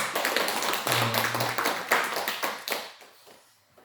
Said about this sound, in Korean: 환영하는 마음으로 힘차게 박수 한번 할까요?